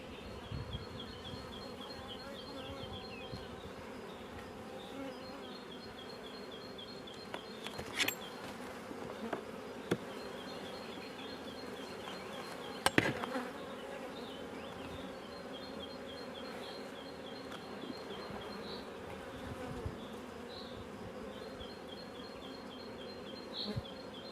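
Honey bee colony buzzing at an open hive during a queen introduction: a faint, continuous hum of many bees, with occasional closer buzzes of individual bees and a few soft knocks.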